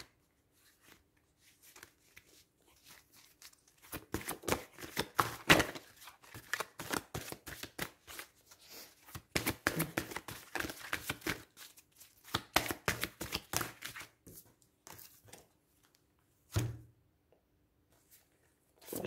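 Tarot cards are shuffled by hand in bursts of rapid riffling flutters, quiet and close, with short pauses between runs and a final soft tap near the end.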